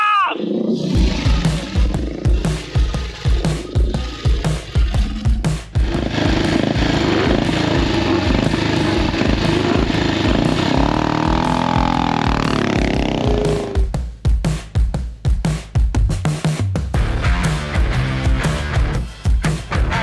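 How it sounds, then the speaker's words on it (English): Ford GT40 race car engine roaring loudly and close at a hillclimb, a sustained full-throttle blare that holds steady before tailing off and returning in rougher bursts. "in the States you don't just see a GT40 just rolling through a field"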